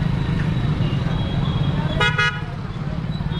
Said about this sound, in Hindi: ट्रैफिक बहुत है।